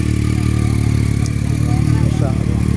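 A Matchless Model X motorcycle with a 2-1 exhaust idles close by, a loud, steady low throb running throughout with brief talk over it.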